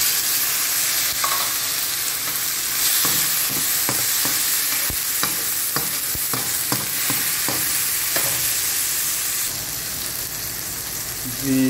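Tomatoes frying in hot oil in a pan as part of a chicken macaroni dish, giving a steady loud sizzle with a run of close stirring clicks and scrapes through the middle.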